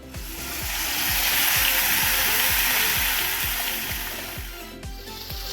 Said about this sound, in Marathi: तेलात ज्यावेळेस जातं तर तेल जे आहे उकळतं हे या प्रकारे त्याच्यात जे बबल्स असतात ते फुटतात